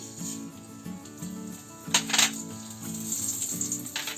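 Mustard and cumin seeds pop and sizzle in hot oil in two short crackling bursts, heard over steady background music.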